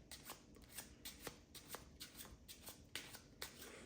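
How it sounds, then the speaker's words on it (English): A deck of playing cards being shuffled by hand, rapid riffling bursts repeating at a steady rhythm, close and fairly quiet with no talking. "give it another shuffle. And this is a fair shuffle."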